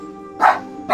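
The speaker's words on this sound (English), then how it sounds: "Excuse my little dog." A small dog gives two short, sharp barks close by, half a second apart, over a quiet background hum.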